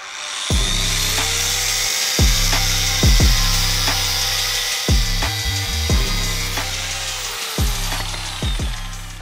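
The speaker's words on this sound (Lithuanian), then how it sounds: "Varžtus nusipjaut naujus. Apjaunam todėl, nes kaip matot, biškį per ilgi." A power tool saws off the excess length of new bolts during Subaru brake work, a loud, steady high-pitched whine broken by repeated short grinding bites and clunks as the blade catches the metal.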